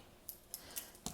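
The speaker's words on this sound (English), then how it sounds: "I'm going to need scissors for this one" Scissors cutting open a package during an unboxing, four short crisp snips spaced roughly a quarter second apart, close and quiet.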